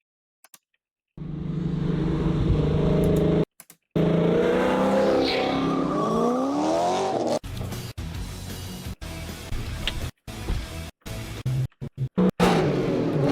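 An American muscle car heard from the driver's seat, its engine revving and accelerating loudly through the gears, with sharp cuts and gaps in the sound.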